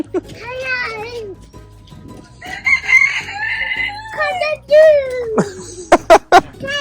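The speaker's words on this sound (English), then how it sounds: "Cock-a-doodle-doo! Cockerel." A cockerel crows several times at a farm park in the Cotswolds, with a child and adults chattering nearby, and sharp bird calls break through near the end.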